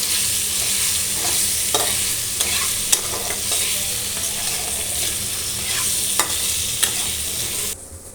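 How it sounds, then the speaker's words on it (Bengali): Whole slit green chillies stirred and fried in a karahi for a Bengali potato-poppy seed dish, giving a steady close sizzle with repeated sharp scrapes and clinks of the spatula, no voices, ending in a sudden quieter tail. "ভালো করে নেড়ে ছেড়ে নেব।"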